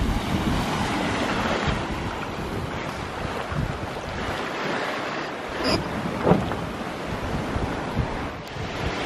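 Wind and ocean swells on an open-sea transatlantic sailing passage, a steady loud roar of wind noise and rushing surf against the hull, continuous throughout with brief louder gusts and splashes.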